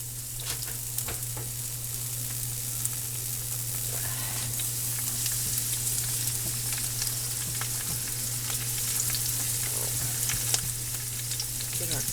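Beef and green bean stir fry sizzles steadily in a pan, a constant close frying hiss with occasional crackles and faint stirring, alone without talk.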